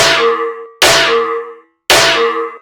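Three metallic, synthesized snare hits, each a sharp attack with a ringing, pitched tail that decays, evenly spaced and played alone.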